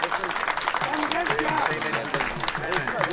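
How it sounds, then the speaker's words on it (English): An audience at an agricultural seed event gives a round of applause, brisk clapping from a crowd heard together with talking voices. "Please give them a round of applause for that."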